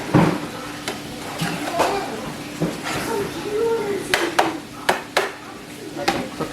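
Chopped green pepper, red pepper and onion cooking in a home kitchen pan, a soft sizzle under scraping stirs and clinks of a utensil against the pan, with a person talking throughout.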